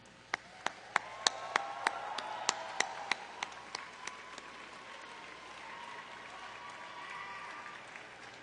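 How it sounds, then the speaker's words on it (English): Scattered applause at a high school graduation ceremony, a dozen or so sharp distinct claps at first, then a soft, distant wash of crowd clapping. "a round of applause for the parents, please"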